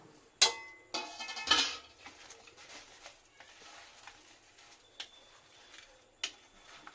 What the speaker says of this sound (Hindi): अब हम इनको मिक्स कर लेंगे अच्छे से